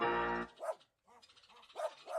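A dog barks up close with a loud, sharp bark, followed after a short pause by a couple of quieter yips or whimpering barks.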